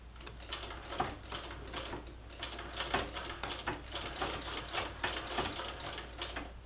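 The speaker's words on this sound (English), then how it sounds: "I'm starting the hand wheel toward me to get the treadle actually going" An 1891 White treadle sewing machine runs while sewing leather, its mechanism clattering in a steady rapid ticking, mechanical rhythm over a low hum, fairly quiet and close, with no talk.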